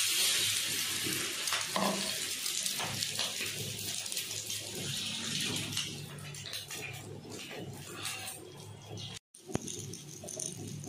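Egg-dipped bread frying in ghee on a hot tawa gives a steady, close sizzle with a broad hiss. It continues for the whole stretch, with one brief dropout near the end and no talking.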